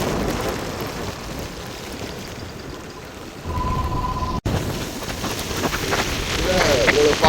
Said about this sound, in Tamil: எப்படி மழை பெய்யுதுன்னு சொல்லி. ஆனால் காற்று இல்லை, மழை பெய்யுது